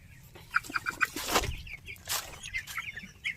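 Poultry chickens in a home shed give short clucks and chirps in bursts, fairly faint and near, with a few louder rustling knocks between them and no talk.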